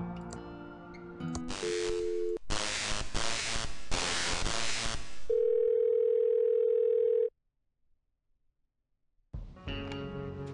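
In the adventure game Thimbleweed Park, a telephone receiver hums with a steady, loud dial tone for about two seconds. Bursts of static and game music come before it, and the tone ends in sudden silence before more sound resumes.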